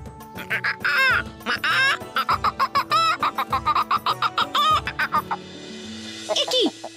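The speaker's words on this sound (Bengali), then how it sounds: "দিন যায়, মুরগিটা ছোট থেকে বড় হয়।" Cartoon chicken clucks and squawks in a quick repeated rhythm, loud and close, with cartoon voices talking over parts of it and a rising squawk near the end.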